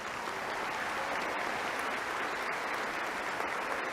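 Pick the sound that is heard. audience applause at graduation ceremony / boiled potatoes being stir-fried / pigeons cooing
audience applause at graduation ceremony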